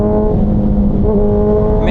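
A Suzuki Hayabusa 25th Anniversary motorcycle fitted with a Brocks shorty exhaust runs with the throttle opened, a loud, close, deep engine drone holding a steady pitch that rises slightly near the end.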